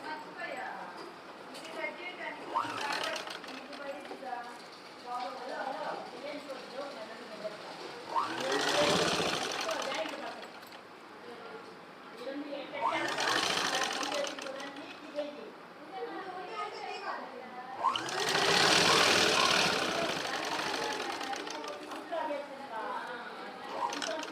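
A sewing machine stitching a small child's dress sized for ages three to four runs in loud buzzing bursts, separated by quieter stretches in which a voice talks.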